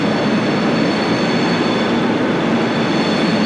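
A Class 350/2 electric train idles at platform 17 at Euston, with a steady, even hum and broadband rumble throughout, no talking.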